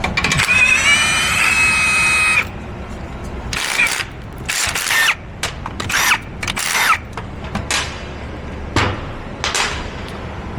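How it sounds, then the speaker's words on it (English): A power tool whirs steadily for about two seconds while undoing U-bolts on the axle of a Sprinter van during an off-road suspension kit install, followed by several sharp clanks and bursts of tool noise nearby. "Let's go ahead and undo these U-bolts."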